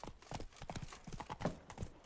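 A horse gallops in The Witcher 3: Blood and Wine, with quick, close hoofbeats clopping in a rapid uneven rhythm over a couple of seconds, faint and alone.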